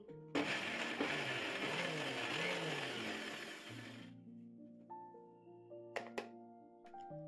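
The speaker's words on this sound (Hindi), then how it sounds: "फिर से हम इसको इसी तरह से 3 से 4 बार मिक्सी के जार चलाते हुए इसको ग्राइंड कर लेंगे" Mixer grinder jar grinding dried amla into powder, a harsh whirring roar that cuts off abruptly partway through, leaving quiet clinks and faint tones.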